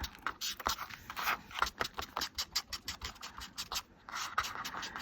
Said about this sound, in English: I'm gonna go ahead and ink up these edges a little bit